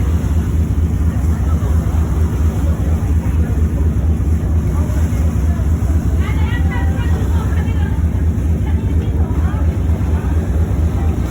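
Steady engine drone and water rush aboard a Hong Kong harbour ferry crossing near Wan Chai, continuous and loud with wind buffeting the microphone and someone talking over it throughout.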